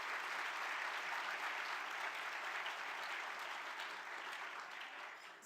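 An audience gives a continuous round of applause after a CEO's remarks at a 2018 company event, heard at low level as a broad crowd of clapping that slowly tapers.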